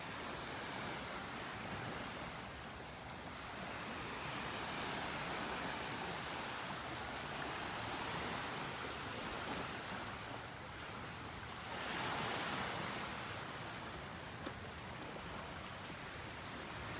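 Surf washes continuously onto a beach in North Naples, Florida, in a broad steady roar of breaking waves, swelling slightly in places, with some wind rushing across the microphone and no voices.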